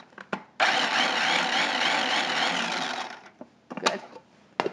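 A mini food processor whirs as it mixes flour, running loud and steady for about three seconds, with a few clunks and taps of handling before and after.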